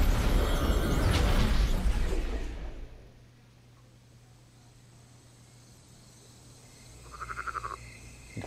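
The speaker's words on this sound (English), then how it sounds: "Frog." A frog croaks in the video game Black Myth: Wukong. A loud roaring ambience fades to near silence, then a short, rattling, pulsed croak sounds clearly near the end.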